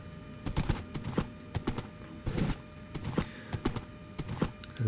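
Horse hooves clip-clopping as a rider travels through a spruce forest past a pond bridge in Minecraft, a video game: a quick, uneven run of light knocking steps at moderate level, with no talk.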